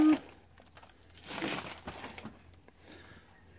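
A roll of masking tape is pulled and handled in a quiet room, making faint, brief crinkling and rustling bursts close by.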